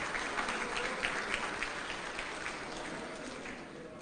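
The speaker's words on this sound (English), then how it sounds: "Let's have a round of applause for the folklorico performance from PSG Memorial Folklorico Team." Sustained audience applause after a folklorico dance performance by a school folklorico team at a city event, steady, even clapping from a large crowd with no talk over it, fairly distant and moderately faint.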